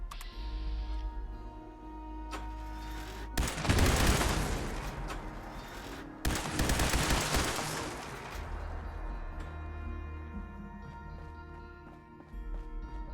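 Two loud, sustained bursts of weapon fire in Fallout 76 rattle close by, separated by a brief pause, set against quieter game ambience with no talking.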